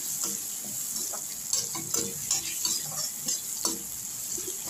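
Sliced onion sautéed in a pan for chicken gravy, a soft steady sizzle under a high hiss, with a spoon stirring and scraping at an uneven rhythm, close and fairly quiet, no talking.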